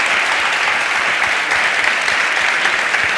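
An audience applauds at the close of a talk at a JavaScript developer conference in Spain, a loud, dense, continuous wash of many hands clapping together that holds steady from start to finish.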